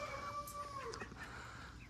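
A faint white leghorn rooster crows once at a distance, a drawn-out call over a quiet, low hum.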